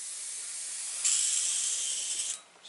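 An airbrush sprays out paint while being cleaned between colours, a steady airy hiss that swells louder midway and then cuts off, close and alone.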